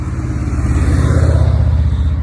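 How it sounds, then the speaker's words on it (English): A car and then a motorcycle pass close by on a country road, a loud, steady engine drone swelling slightly as they go by. "Ignore the car noises and the now motorcycle."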